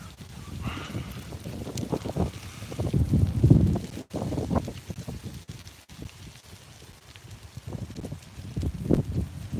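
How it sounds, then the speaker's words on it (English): Wind gusting outdoors, buffeting the microphone in uneven low rumbles that swell and fade across the stretch, loud and close with no talking. "the wind keeps blowing in my"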